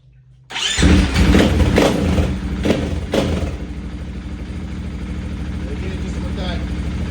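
A 2024 KTM 500 EXC-F Six Days dirt bike with an FMF exhaust cold-starts in a closed garage, firing up with a loud roar and then settling into a steady, rumbling idle.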